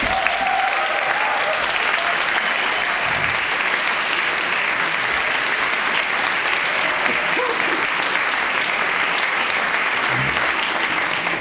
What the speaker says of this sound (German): Ganz großer Applaus für die tolle Szene in Tirol.